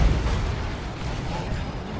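Grenade blast in the real-time strategy game Dawn of War 2: Retribution during a 2v2 match, a dense rumbling boom that fills the whole moment with sustained low crackle and battle noise.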